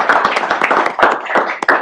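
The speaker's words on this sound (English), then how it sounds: "Let's have a round of applause for" Applause at a North Perth council meeting: a dense, sustained round of hand clapping from a gathered audience, loud and close, with no speech over it.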